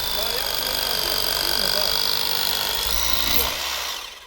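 A cordless rotary hammer drill with a 22 mm bit grinds steadily at close range with a dense, rough buzz that fades out near the end, while someone talks over it.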